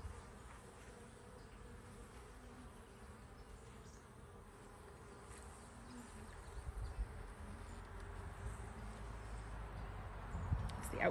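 Agitated honeybees buzz continuously around an open hive during an inspection, a dense, faint, steady hum with a few louder sounds toward the end.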